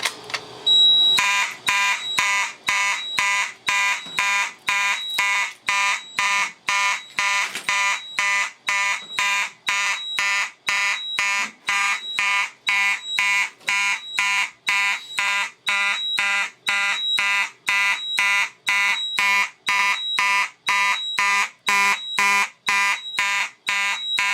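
A Simplex 4010 fire alarm panel's electronic alarm blares in a fast, steady pulsing pattern, loud and close, repeating without pause for over twenty seconds.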